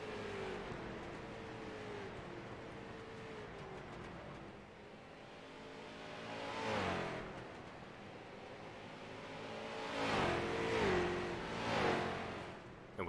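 Pro Street Stock race cars circling a track, engines droning at a distance and swelling into louder passes with revving as cars go by, then fading again.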